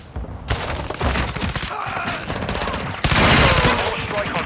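Dense gunfire from Call of Duty: Modern Warfare II, rapid bursts of automatic fire and overlapping shots roaring continuously, louder and thicker in the final stretch, with scattered thuds mixed in.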